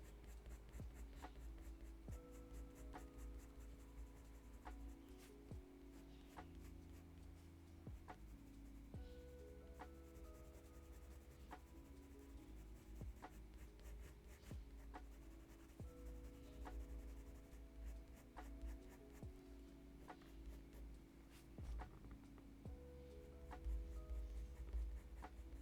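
B pencil shading on paper while drawing a chocolate Labrador: a steady, close scratchy rubbing of graphite with soft rhythmic strokes, continuous and alone over a faint low hum.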